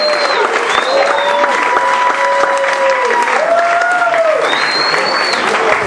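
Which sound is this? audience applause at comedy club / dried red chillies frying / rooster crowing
audience applause at comedy club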